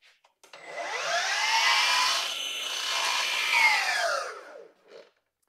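A Milwaukee M18 cordless tool on a 4 amp-hour battery spins up, cuts wood with a loud rising and falling whine lasting several seconds, then winds down to silence.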